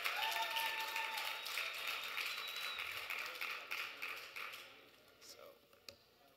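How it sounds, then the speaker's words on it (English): Audience applause at a panel on worker struggles and internationalism, a dense wash of clapping that starts loud and gradually thins and fades out over several seconds, with no voices over it. "Round of applause."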